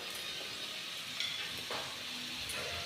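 Chicken thoran with curry leaves stirred in a pan of coconut oil, giving a soft, faint sizzle with light scraping from the stirring, close but quiet and brief.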